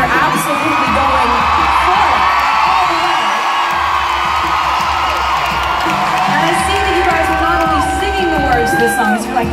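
Loud stadium crowd at a concert on a Tuesday night in Pittsburgh, cheering, screaming and whooping continuously for the whole stretch, a dense wall of voices with shrill shouts rising out of it.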